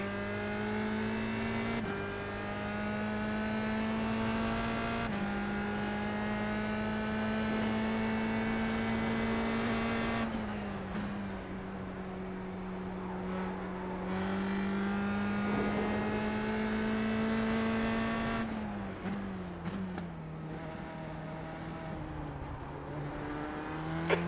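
A USF-2000 open-wheel race car engine drones steadily around Brands Hatch. The tone is loud and sustained and shifts pitch as the car lifts and accelerates through gear changes, with no talk heard.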